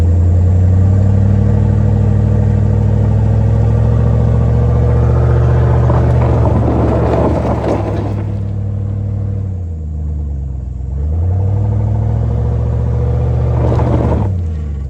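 A GMC Denali truck's engine roars loud and close, revving hard in long surges that rise and fall as the wheels spin and slide, with a deep steady rumble underneath and no talk.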